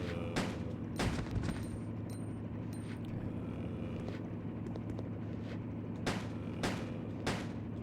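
Gunfire in Resident Evil Code: Veronica: a handful of sharp, loud shots spaced irregularly, a couple landing close together near the start and a few more later, over a low humming game ambience.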